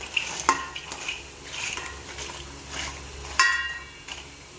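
Crab curry mixture being stirred in a frying pan, with soft scraping strokes against a low steady sizzle, close and moderately quiet, no talk.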